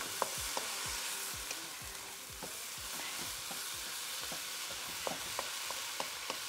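Ramen noodles frying hot and fast in a pan, a steady dense sizzle with frequent sharp pops and crackles of moisture burning off, close and continuous with no voices.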